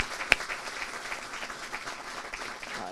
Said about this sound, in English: Let's have a round of applause for all of the honorees who will be